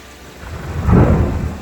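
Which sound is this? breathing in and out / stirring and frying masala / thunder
thunder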